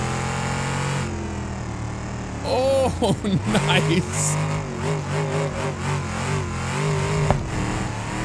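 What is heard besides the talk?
police car engine revving in video game BeamNG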